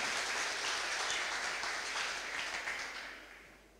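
An audience at the CANTO Connect 2025 opening ceremony in Curaçao gives steady, moderately distant applause welcoming a minister to the stage, fading out toward the end.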